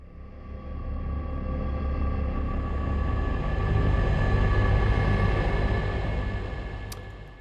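Low brass drone from the Audio Imperia Talos sample library: a dense, rumbling sustained tone that swells gradually to a peak, then slowly fades.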